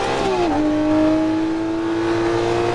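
A Lamborghini Murcielago LP640 upshifts on Las Vegas Speedway: the engine pitch drops sharply at the gear change, then climbs steadily again under hard acceleration, loud and close with no talk.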